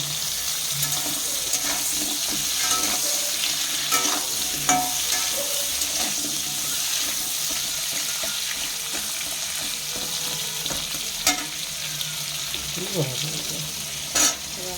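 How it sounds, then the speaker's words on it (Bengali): Radish, flat beans and eggplant fry in a pan with steady sizzling, while occasional stirring scrapes and light clinks rise now and then over the hiss. "এটা একটু ভাজা ভাজা হবে।"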